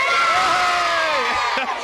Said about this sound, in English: see if they can give us a louder cheer